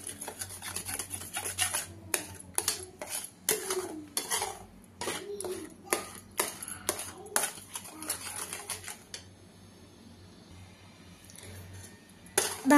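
A spoon scrapes and clatters rhythmically against a pan while stirring a khoa and sugar mixture, close and distinct repeated strokes with brief pauses, then a quieter stretch before a final scrape.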